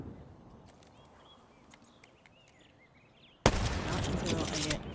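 Video game gunfire bursts in suddenly partway through as loud, sustained rapid automatic shots after a quieter stretch of game ambience with faint chirping sounds.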